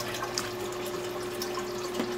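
A siphon drains water from an aquarium tank, producing a steady, low, continuous trickling flow with no talking.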